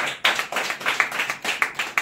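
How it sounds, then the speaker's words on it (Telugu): Clapping at a Bible study gathering: steady, fairly quick hand claps in an even rhythm, sharp and close, with no talking over them. "దొరికింటే ఒకసారి క్లాప్స్ కొడదాం"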